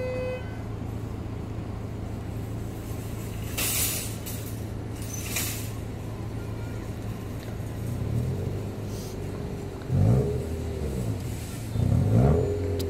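A car revving hard and accelerating past at Teesside Park, with engine pitch sweeping up in a few loud surges near the end, after a couple of brief horn toots and a steady background hum.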